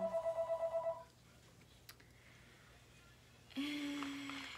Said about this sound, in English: And the phone would ring.